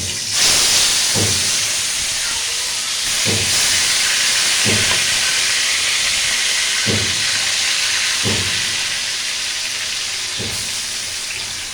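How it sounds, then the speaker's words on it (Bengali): Meat marinated with soy sauce and salt frying in a pan, giving a loud, steady sizzle and hiss close by, with soft regular thumps recurring every couple of seconds. "সয়া সস লবণ টবণ মাখিয়ে এখন এটাকে একটু ভেজে নিব"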